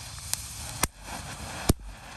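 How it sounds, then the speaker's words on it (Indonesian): A long fountain firework sprays steadily with a hissing rush, and sharp pops and crackles burst through it at intervals, loud and close outdoors. "Air mancur panjang, semburannya juga lama ini. Ada bola-bolanya juga. Ada pretek-preteknya."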